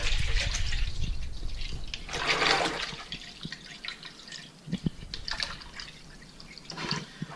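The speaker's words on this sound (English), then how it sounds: "So I'm going to just pour that in here." Distilled water pours steadily into a basin, a gushing stream that tapers into smaller splashes and drips near the end.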